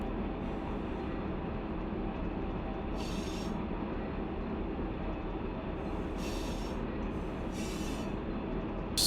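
A heavy freight train rolls downgrade in Run8 Train Simulator, a steady close rumble of wheels on rail with periodic high metallic squeals from the wheels.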